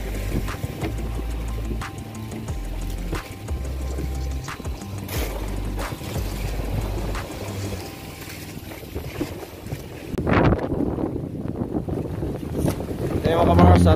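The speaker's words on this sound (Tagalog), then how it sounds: "lumalakas yung hangin at halon" Heavy wind rushes across the microphone over a droning boat engine, with water sloshing and a voice talking briefly near the end.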